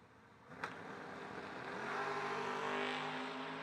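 Drag racing cars, a spotless Chevy II and the Flamin' Mustang, at a drag strip, heard as a distant steady engine drone that swells with rising revving tones.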